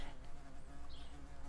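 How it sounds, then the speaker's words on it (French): A wasp buzzing close by in a very quiet outdoor spot with no passing traffic, a steady low drone that holds without a break. "il y a une guêpe."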